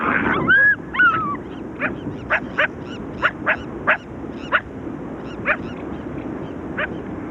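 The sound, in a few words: dog or jackal-dog hybrid barking and whimpering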